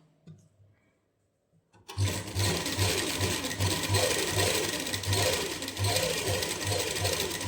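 An electric sewing machine stitches a double seam on a homemade winter cap, whirring steadily and close by after a brief quiet start, with no talking.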